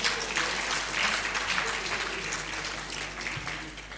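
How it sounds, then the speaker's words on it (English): A crowd applauds steadily for several seconds, a dense patter of clapping hands filling the room, with a voice faintly audible underneath. "Please, a round of applause for our panelists."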